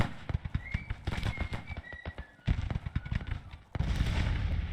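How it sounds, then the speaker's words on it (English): Artillery fire on a battlefield in the Grand Tactician strategy game, a dense run of booms and crackling shots with rumbling bursts, some sharp reports overlapping, loud and continuous. "Our artillery's opening up on him"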